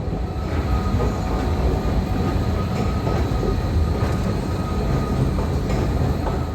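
A Red Line metro train rumbles steadily through Friendship Heights underground station in Washington, a constant loud roar of wheels and carriages with faint metallic rattles throughout.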